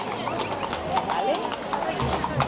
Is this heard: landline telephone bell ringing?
no